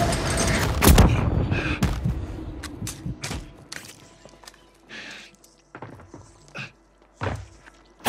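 Gunfire and heavy impacts ring out in a shooter video game, loud sharp shots bunched at the start, then scattered thumps and bursts separated by short gaps.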